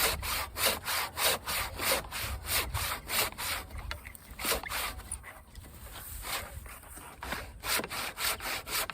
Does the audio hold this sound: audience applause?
no